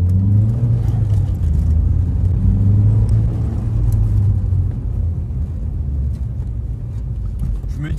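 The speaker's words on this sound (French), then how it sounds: "Je vais faire une petite accélération pour vous faire écouter le bruit." An Audi TT MK1 with a 180 hp engine accelerates, giving a loud, steady low rumble with rising tones early on that settles into a constant drone as the car pulls away on the road.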